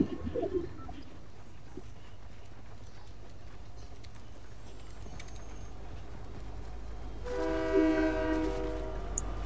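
A train horn in Fortnite blares near the end, a loud sustained multi-tone blast over steady rumbling game ambience and scattered bird calls, with no speech.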